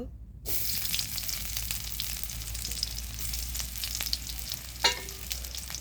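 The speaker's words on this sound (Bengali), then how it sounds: "এই যে পেঁয়াজ কুচি দিয়ে দিলাম" Chopped onion dropped into hot mustard oil in a pan: after a brief silence, a loud, dense, continuous sizzle sets in close by and keeps crackling steadily, with one sharper pop near the end and no voices.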